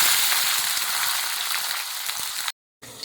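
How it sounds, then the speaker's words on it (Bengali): Pumpkin and potato pieces drop into hot oil tempered with five-spice in a kadai, giving a loud, steady sizzle that cuts off abruptly near the end. "5 ফোড়ন দিয়ে দিয়েছি, কুমড়ো আলুটা দিয়ে দিলাম"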